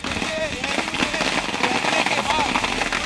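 Firecrackers crackle in a dense, continuous string at a celebration. The popping runs without pause under a noisy crowd, with voices and faint whistles mixed in.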